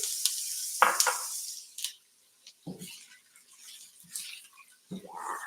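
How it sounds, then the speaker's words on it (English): Chopped whole onion dropped into a pan of preheated oil, giving a hissing sizzle with a few bursts of louder crackle, a brief quiet gap, then fainter intermittent spitting near the end. "I'm going to go ahead and add my chopped onion."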